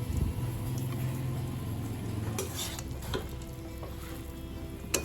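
About 100 grams of half-crushed peanuts go into a hot pan of coconut kochu shak, a traditional Bengali dish, setting off a close, steady sizzle with scraping stirs and a few sharp clinks of the spoon against the pan.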